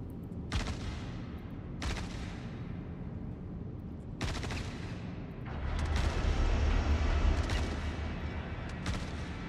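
Weapons fire in a video game: sharp, loud shots ring out at spaced intervals, then a denser stretch of rumbling gunfire rolls through the middle before another lone shot near the end.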